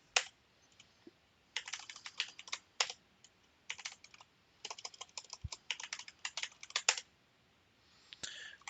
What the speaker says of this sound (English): Type yes to set a password and type secure password twice.